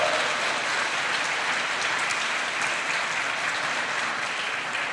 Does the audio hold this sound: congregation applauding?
yes